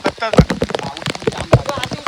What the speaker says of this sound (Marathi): भर पावसामध्ये चिंबोरी पकडायला आले आपण.